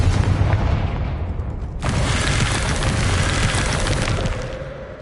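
A Confringo fire-blast spell explodes in Hogwarts Legacy: a loud, dense burst erupts suddenly and roars steadily for a few seconds over rumbling game sound before fading out.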